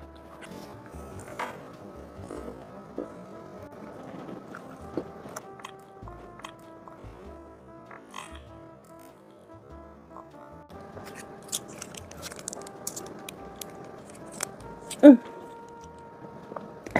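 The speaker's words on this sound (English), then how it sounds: "let's eat this crunch wrap" Someone bites and chews a crunch wrap up close, with crisp crunches and moist chewing spread across the stretch, a sharp crunch near the end, and light talk in the background.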